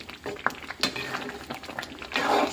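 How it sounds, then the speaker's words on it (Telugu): A spoon stirs ghee into a dish in a pot, giving scraping swirls and sharp metal clinks against the sides, with a sizzle-like hiss that swells near the end. "నెయ్యి వేసిన తర్వాత దాన్ని చక్కగా కలపాలి."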